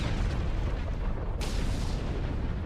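Explosions in the space game Star Trek Online, a dense continuous rumble of booms and blasts with no gaps, loud and close throughout.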